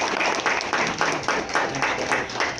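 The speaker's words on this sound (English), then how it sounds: "let's give these legislators a big round of applause" A room full of people claps at a meeting to honor state legislators, the dense applause swelling in a steady, pulsing rhythm for a few seconds at moderate loudness.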